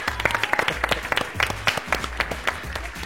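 An audience bursts into applause, a dense run of rapid overlapping claps at steady strength, close and lively with no talk over it.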